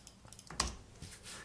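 Quiet keystrokes tap on a computer keyboard at close range, a handful of soft irregular clicks with one slightly firmer press, no voices present.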